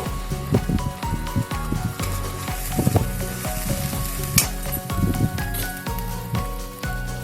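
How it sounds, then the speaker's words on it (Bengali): Spice masala sizzles and fries in a pan while being sautéed for Bengali bori jhal, a steady crackling hiss with stirring clatter throughout, close and loud, no talking. "মশলাটা দিয়ে আমি একটু ভালো করে কষিয়ে নেব।"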